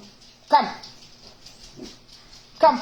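Dogs whimper in short, high whines, with bursts near the start and end of a quiet indoor moment.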